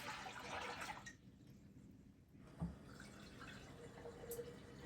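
Cold tap water running from a spigot into a mason jar during sous vide ribeye prep, a steady close pour with a brief lull midway and a soft knock near the middle.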